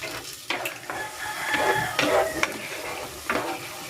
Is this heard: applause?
no